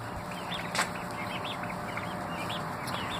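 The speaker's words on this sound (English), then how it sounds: "Got our baby turkeys. What's up, turkeys?" Baby turkeys chirp in a quick series of soft, high peeps from a small farm brood, fairly close, over a steady low background hum.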